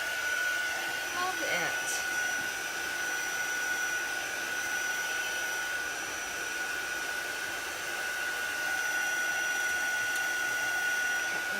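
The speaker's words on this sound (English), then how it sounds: "I don't want my dryer to dry out my ink." A handheld craft heat dryer blows steadily for about twelve seconds, drying chalk paste ink on a buffalo plaid sack, a loud continuous whine with a brief spoken remark early on.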